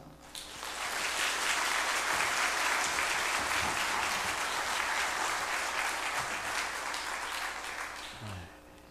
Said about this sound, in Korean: 우리 목사님 나오실 때 함께 박수로 환영하겠습니다